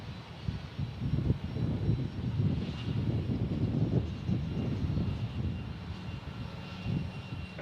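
Southwest jet airliner landing on runway 13 left at Dallas Love Field, its engine roar steady and fairly loud throughout with a broad rumbling wash and no talk.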